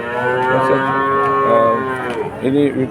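A bull calf lows loudly and close, a long drawn-out moo followed by shorter bellows, with faint bustle of the Chuknagar cattle market behind.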